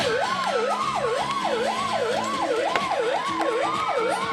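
An emergency vehicle siren wails in a steady, rapid up-and-down sweep, loud and close, repeating evenly over the sound of a road vehicle with no talking.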